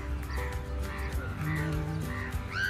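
Several crows caw repeatedly at a distance, their harsh calls spaced out over a low outdoor hum.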